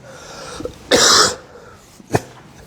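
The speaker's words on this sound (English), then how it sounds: "I'm sorry if I'm coughing in the middle." A person coughs sharply and close by: one loud, raspy burst, then a short single cough a moment later, with quiet between them.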